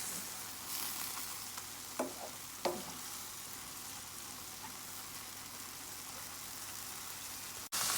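Ground meat and Marlboro pepper fry in a pan with a constant, fairly soft hiss, broken by a couple of brief stirring scrapes, and no one speaks.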